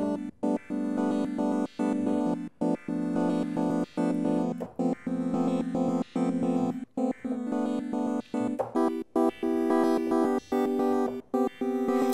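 Synthesizer patch built in Bitwig Studio with randomised modulation, playing dense sustained harmonic tones whose timbre keeps shifting, broken by frequent abrupt gaps and stutters over twelve seconds, loud and alone without any talking.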